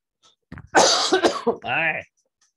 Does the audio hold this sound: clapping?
no